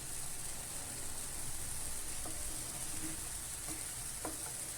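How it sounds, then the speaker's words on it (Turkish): Menemen of eggs and tomatoes cooking in a pan with a steady, soft sizzle, faint and constant, with a few small pops and crackles scattered through. "Bugün de böyle mis gibi bir menemen. Şöyle pişsin güzelce."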